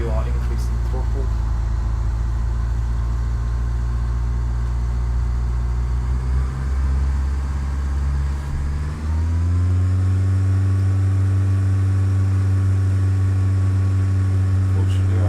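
Airplane engine in the Flight Simulator X game: a loud, steady engine drone that shifts upward in pitch and strengthens partway through as the throttle is increased.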